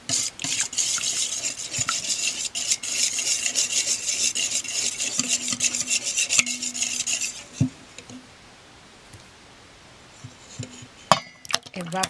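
A cheesecake flan mixture with fresh milk being stirred in a bowl, producing a close, continuous scraping and swishing that stops partway through, then a few faint clinks.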